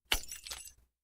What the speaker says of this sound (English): drop my favorite Sir Spottie mug. It was smashed in pieces.